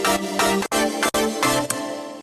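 Layered synthesizer sounds, one with a sharp transient attack, play together as a dense, bright pattern of chords. Abrupt cuts break the steady rhythm and there is no talking.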